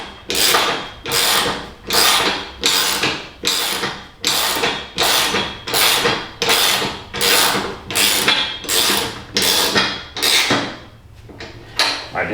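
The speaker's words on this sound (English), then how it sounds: "Now we're just going to bolt them down." A hand ratchet tightens bolts on fabricated control arm mounts for a K24 prototype racer. Over a dozen loud, even bursts of rapid clicking repeat in a steady back-and-forth rhythm, close up with no talking.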